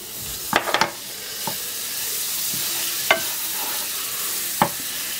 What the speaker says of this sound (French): Et après, j'y mets mon beurre.